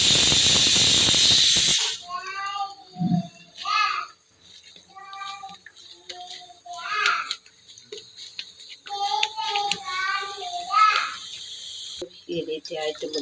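Pressure cooker whistle releasing steam while chicken sambar cooks: a loud, harsh hiss lasting about two seconds that cuts off abruptly, followed by a person talking.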